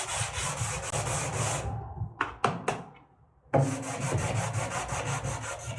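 Sandpaper on a hand block rubbed back and forth over a wooden front door, close raspy scraping strokes that pause briefly for a few knocks and taps before the sanding resumes.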